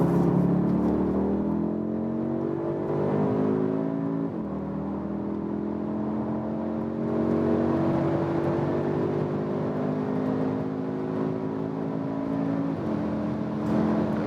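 An Audi SQ2 in dynamic mode pulls hard from speed on the Autobahn, its engine note climbing steadily through several gear shifts, each marked by a short dip, under a constant wash of road and wind noise.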